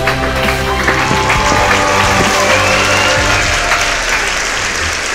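A church congregation applauding and cheering, loud sustained clapping from many hands filling the room, with a steady musical drone and voices faintly mixed underneath.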